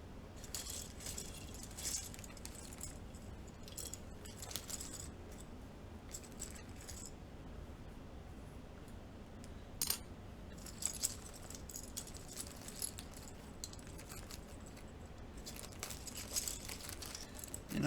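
Hands rummaging through a pile of mechanical keyboard keycaps, quiet plastic clicks and rattles with a few sharper clacks, soft and close with no talking.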